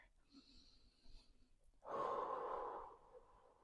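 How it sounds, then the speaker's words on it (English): One deep, audible inhale-exhale during a gentle yoga stretch, breathy and close, rising after a quiet stretch of faint room noise and easing off over about a second. "Couple deep breaths here."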